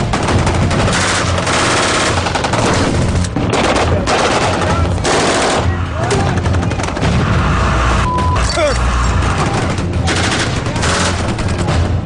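Loud, dense machine-gun and AK-47 gunfire fills a combat firefight against insurgents, with rapid overlapping bursts and heavy booming shots continuing without a break, and voices faintly mixed in.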